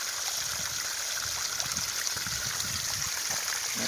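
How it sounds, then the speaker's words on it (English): A small spring trickles out of rocks in the woods near Scripture Rocks, a steady close-up babble and splash of running water with no talk. "here's this little spring coming out of here"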